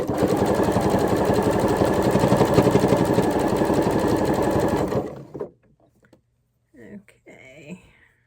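Sewing machine running steadily and loudly for about five seconds, stitching stretched ribbing onto a tee shirt neckline, then stopping; quiet speech follows near the end.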